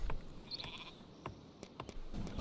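A sheep in the strategy game Northgard gives a brief, faint bleat amid soft interface clicks and quiet game ambience.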